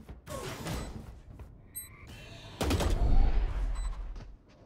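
Gunfire in the video game Valorant: loud bursts of shots with mechanical clicks and clatter between them, the heaviest volley near the end, with no talking.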